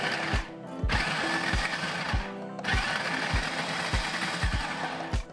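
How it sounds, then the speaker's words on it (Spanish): A food processor grinds frozen strawberries with yogurt on low speed in short pulses, a loud motor whir broken by brief stops, with rhythmic thumping as the frozen chunks knock around the bowl. "Vamos a taparlo el procesador y vamos a proceder a moler esto."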